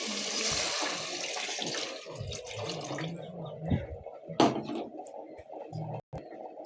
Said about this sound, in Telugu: చెమ్ముతో నేను బియ్యానికి చెమ్మున్నర నీళ్ళు పోస్తున్నాను.